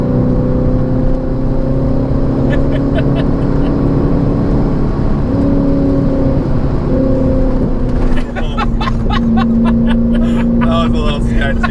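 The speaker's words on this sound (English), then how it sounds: "Get another good braking shot." A 2002 Corvette C5 brakes hard from speed, its loud, close engine drone holding steady then shifting pitch as it slows, with a burst of rattling, crackling noise near the end and voices talking over it.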